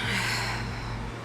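A deep inhaled breath during a gentle yoga routine, close and airy, one long steady intake of air that fades toward the end.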